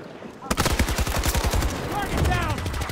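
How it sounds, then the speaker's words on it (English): Rapid automatic gunfire from teammates shooting together in the video game Battlefield, with a dense burst of close, repeated shots followed by overlapping fire and ringing, mixed with talk. "Nice team shooting."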